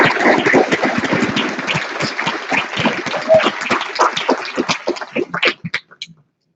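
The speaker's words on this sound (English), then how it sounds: "Let's give him a round of applause." Sustained applause from a university commencement audience in Sitka, Alaska, steady dense clapping for about five seconds before thinning into a few scattered claps and fading out.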